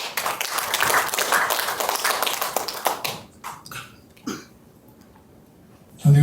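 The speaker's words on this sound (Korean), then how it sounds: "여러분 뜨거운 박수로 맞이해 주십시오." Audience applause at an academic symposium welcoming the chairman to the podium, a dense burst of clapping for about three seconds that quickly thins out into a few scattered claps and taps.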